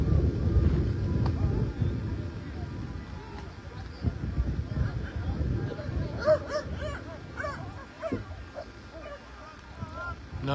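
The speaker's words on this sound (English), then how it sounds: "No, nobody is harming that dog in the background, if you're wondering." A beagle barks and yips excitedly in the background, with repeated short barks and whimpers partly masked by steady wind and water noise at an outdoor boat race.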